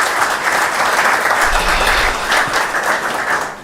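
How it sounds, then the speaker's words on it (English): An audience at a research conference opening ceremony applauds continuously, a dense, loud wash of clapping that holds steady before tapering off at the end. "we like to applaud all of them"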